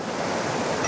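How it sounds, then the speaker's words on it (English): Fast-running trout stream water rushes in a steady, dense wash for about a second, close and continuous with no voices. "that water's going fast"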